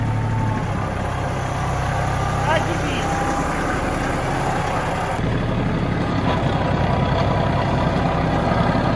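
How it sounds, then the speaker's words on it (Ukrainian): A Kubota KT 24 compact tractor engine runs steadily at close range, a constant droning rumble with a brief spoken word over it. "Розворот трактора відбувається в рази швидше."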